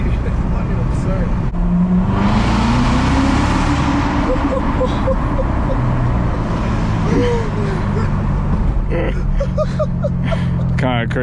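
Manual Corvette C7 Z06 engine and exhaust droning loudly through a hard acceleration on a night drive, with rising engine tones heard from inside the car while occupants talk over it.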